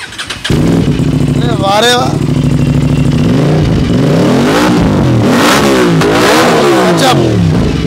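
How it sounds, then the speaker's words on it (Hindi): An Aprilia RS 457 motorcycle fitted with a full system exhaust starts up, then revs repeatedly with sharp rising and falling blips, loud and close throughout. A man exclaims over the engine noise. "इसकी भी सुनते हैं साउंड कितनी खतरनाक और कितनी अच्छी कैसी आती है। करिए स्टार्ट।"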